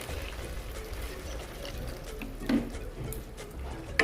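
A little water is poured into a cooking pan set over a very low gas flame, a soft continuous pouring and trickling with a small splash near the middle, close and steady.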